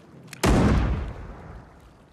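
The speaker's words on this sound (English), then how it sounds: "Wonder if you can open a coconut with a pistol." A single loud pistol shot fired at a coconut in a VR pirate video game, an abrupt close blast that tails off into a long fading echo, with no talking over it.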